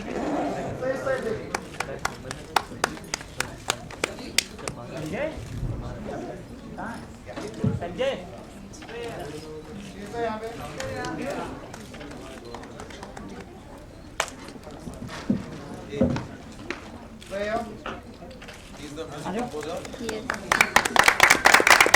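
Scattered hand clapping rises and falls at a film anthem launch event, with sharp bursts among ongoing talk that swell louder near the end.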